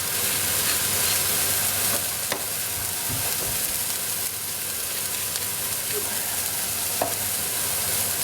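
Cheeseburger patties sear in a hot pan with a loud, continuous close-up sizzle and hiss, broken by occasional faint clicks and scrapes, and no talking.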